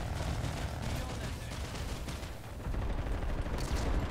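Gunfire in the video game Planetside 2 comes as dense, continuous bursts and heavy shots that fill the whole stretch, loud and close, with a surge of louder firing in the second half.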